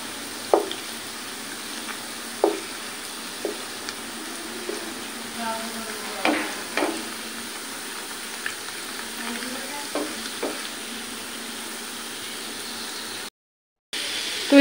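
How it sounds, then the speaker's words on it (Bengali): Chicken fingers frying in oil over medium-low heat, a soft continuous sizzle broken by several sharp clicks and scrapes as the pieces are turned in the pan. "মিডিয়াম টু লো হিটে রেখে এখন আমি চিকেন ফিঙ্গারগুলো ভেজে নেব"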